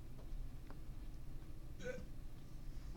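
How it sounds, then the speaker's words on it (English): A single short hiccup from someone in a classroom during a math lesson, heard once near the middle over steady low background hum. "Uh-oh, somebody's got the hiccups."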